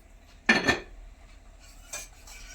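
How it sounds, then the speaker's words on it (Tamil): A spoon stirs onion, green chili and yogurt raita in a bowl, giving a brief scraping clatter followed by a fainter clink a moment later, close and otherwise quiet. "கலக்கி விட்டுடலாம்."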